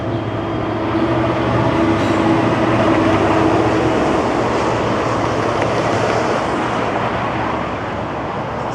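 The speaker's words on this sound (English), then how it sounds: "Looks like we're going to get to see a train." A train rumbles past in Toronto with a continuous rolling roar that swells slightly toward the middle and eases off at the end, no voices present.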